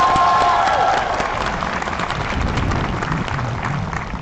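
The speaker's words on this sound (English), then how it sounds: "please join me in another round of applause for our cherished colleague." A large commencement audience at Trinity applauds a colleague coming forward, sustained crowd clapping with some cheering, fairly loud and steady, briefly overlapping a fading tone at the start.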